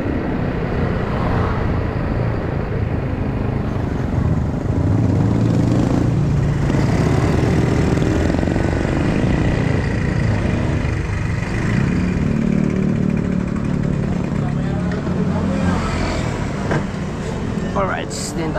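A motorcycle engine running steadily while riding, a loud continuous drone with wind noise, on a rural work trip after heavy rain, with people talking intermittently over it.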